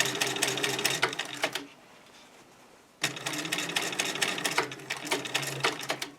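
A sewing machine stitches hems with a double needle in fast, rapid-fire bursts, running about a second and a half, pausing briefly, then running again for several seconds, close and clear with no talk.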